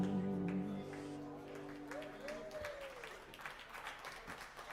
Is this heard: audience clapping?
yes